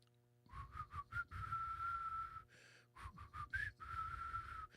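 A person whistles the psychic sponsor jingle, a clear solo tune of short notes and longer held tones with a few breathy pauses between phrases.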